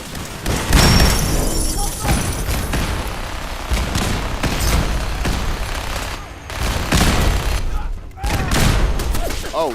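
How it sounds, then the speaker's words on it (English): Explosive rounds fired by bunker defenses in a Fallout game: a steady barrage of loud, booming shots and blasts, close and heavy, with brief gaps, while a voice speaks over the noise. "the defenses are still targeting me. And they are explosive rounds."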